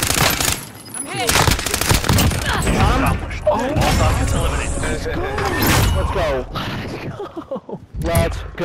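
Rapid automatic gunfire and bursts crackle through a Call of Duty: Modern Warfare match, dense and loud with booms, while players shout over the shooting.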